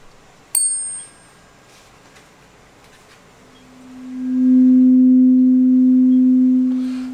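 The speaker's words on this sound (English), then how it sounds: "if I sound one of these tuning forks, you may be able to hear it" Tuning fork struck once with a sharp metallic tap in a classroom, followed by a faint ring that swells into a loud, steady pure tone as it is brought close to the microphone, sustained alone to the end.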